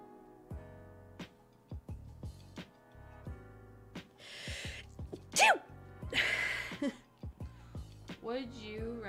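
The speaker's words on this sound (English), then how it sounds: "I think I'm about to sneeze." A sneeze comes after a few sharp breaths: a short buildup of inhales, then a loud explosive burst, followed by a second noisy release and some breathy voicing.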